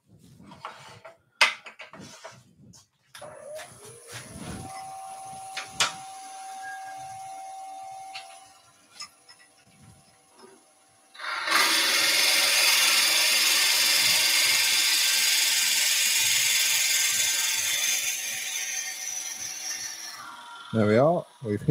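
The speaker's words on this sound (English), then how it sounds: "Now we're going to drill all the way through." A few clicks and a brief whir, then a power drill runs loudly and continuously for about ten seconds, biting all the way through a wooden pepper grinder blank before stopping.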